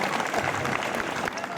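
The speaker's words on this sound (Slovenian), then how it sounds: "Še en aplavz tudi za te mlade tolkalce." Audience clapping for a group of young percussionists at a film premiere, a brief burst of dense crowd applause with mixed voices blended into it.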